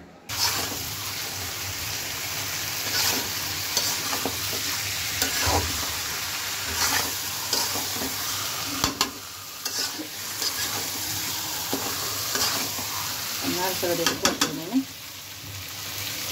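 Food sautéed and stirred in a pan in a home kitchen on Eid, steady sizzling with frequent spatula scrapes and clinks throughout, a few running-water sounds, and faint voices in the background.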